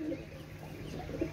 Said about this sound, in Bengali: এটা হচ্ছে মহীশূর কবুতর